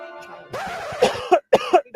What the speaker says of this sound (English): I was trying to hold in a cough